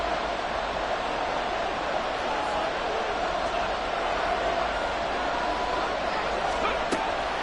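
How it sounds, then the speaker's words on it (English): Loud, steady roar of a football stadium crowd during a game, a dense continuous wash of cheering and noise that fills the whole stretch with no break. "This crowd turning up the decibel level."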